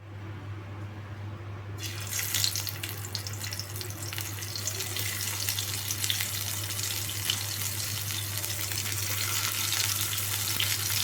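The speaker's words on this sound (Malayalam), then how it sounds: "വെളിച്ചെണ്ണ ചൂടായ ശേഷം നമുക്കിതിനെ ഫ്രൈ ചെയ്തെടുക്കാം" Brinjal slices drop into hot coconut oil after a quiet start, then fry with a loud, close, continuous crackling sizzle that holds steady to the end, with no talk.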